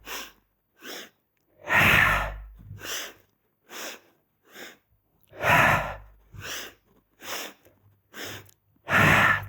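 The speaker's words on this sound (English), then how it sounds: "Inhale, inhale, inhale, exhale." A rhythmic breathing exercise in a yoga sculpt session: sets of three short, sharp inhales followed by one longer, forceful exhale, repeated close and clear with silence between breaths.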